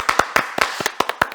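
Hand clapping at a youth church worship service, a quick rhythmic series of crisp, close claps, about eight or nine sharp strikes in under two seconds with nothing else heard.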